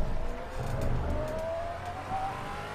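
A Maserati Alfieri or Pagani Huayra BC accelerating at Monza in the Assetto Corsa racing game, a steady engine note rising in pitch as the car speeds up.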